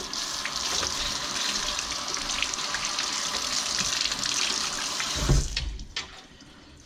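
Water runs steadily from a tap, rinsing off fishing gear, a close continuous splashing rush that cuts off near the end, leaving a quieter drip and faint handling.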